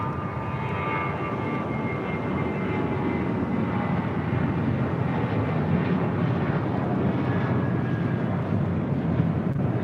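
A jet airliner roars during takeoff from runway 24 left at LAX, a steady broad engine rumble heard from a distance, with no talk over it.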